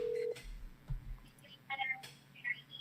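A telephone dials out, starting with a short steady tone and followed by soft beeps and clicks, all quiet and close with faint breathy voices between.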